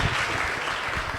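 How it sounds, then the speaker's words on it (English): Audience at a debate on the existence of God applauds a speaker, a short steady wash of clapping heard at moderate level. "So, Sydney, let's give her a round of applause"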